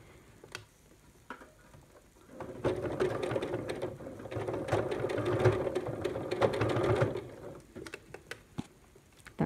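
Sewing machine running a stabilizing seam along bias binding, a steady rattling mechanical whir that starts after a quiet pause and runs for several seconds at close range before stopping, with no voices.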